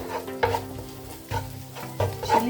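Madras street-style fried rice sizzles loudly in a hot pan as chilli powder is stirred in, with three or four rhythmic scraping tosses over a steady frying hiss and no voices.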